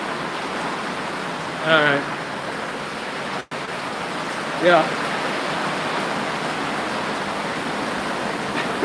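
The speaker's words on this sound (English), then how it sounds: "This is a pretty good storm." A heavy wind-driven storm pours down as a dense, steady hiss of rain and gusts that fills the whole clip, with a person briefly speaking twice over it.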